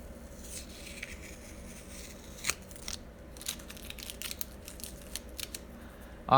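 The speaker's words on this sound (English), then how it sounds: "I feel like it's Christmas morning with all this unwrapping." Mail packages are unwrapped up close, with faint crinkling and tearing rustles and scattered quick snips over a quiet room tone, louder at the very end.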